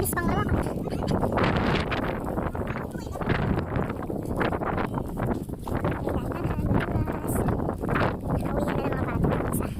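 Wind gusting during a snowstorm, a steady broadband roar and buffeting rush across the microphone throughout, with a person talking over it the whole time.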